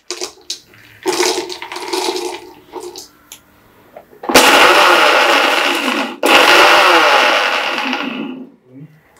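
A mixer grinder whirs loudly in two long bursts, grinding dry peanuts, after some lighter clattering and shaking of the jar.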